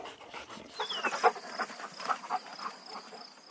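A pack of five pet dogs pants, snuffles and whines close by in a busy, uneven stream of small sounds, with a faint high insect-like whine running through it.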